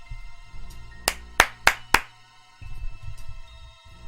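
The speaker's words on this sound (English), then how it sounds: "I'm going to clap into the microphone so that I know when I'm editing this to cut here" Four sharp hand claps close to a microphone in quick succession, crisp and loud, set against a quiet room with low background hum.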